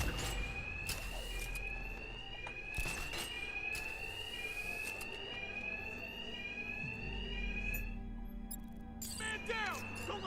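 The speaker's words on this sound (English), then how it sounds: "these thugs can't hear a thing over the alarms" Repeating electronic alarm blares in the Batman Arkham Knight video game, a steady looping tone with rising sweeps, continuing under voices and combat noises throughout.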